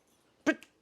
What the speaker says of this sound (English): My dogs needed to bark.